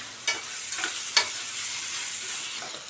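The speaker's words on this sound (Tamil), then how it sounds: "தக்காளி நல்லா மசிகிற அளவுக்கு நம்ம வதக்கி விட்டுக்கணும்." Tomatoes and small onions sauté in a pan, a soft close sizzle broken by three quick spatula scrapes and stirring strokes early on, then a quieter steady hiss.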